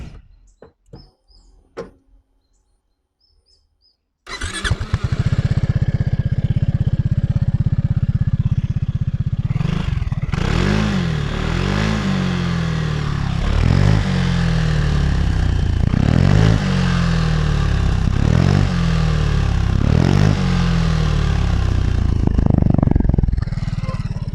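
Kymco Xciting 400 Limited Edition motor scooter engine idling loudly close by, then revved repeatedly in a steady series of throttle blips, each swelling and falling back, with no talk over it.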